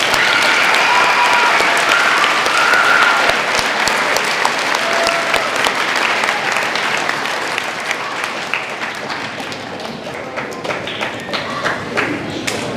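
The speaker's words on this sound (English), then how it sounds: "Let's give Mr. Kreis another round of applause" A school Veterans Day assembly audience claps in a dense, loud round that slowly thins and fades.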